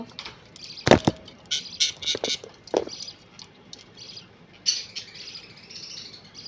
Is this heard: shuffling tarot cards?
no